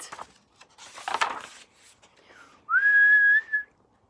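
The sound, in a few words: person whistling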